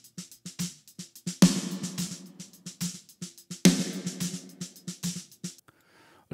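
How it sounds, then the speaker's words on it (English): A punchy drum beat where two snare hits burst into a big, abruptly cut gated reverb wash, with steady kick and hi-hat between them. "I just put a gate so only the loud parts of the snare drum"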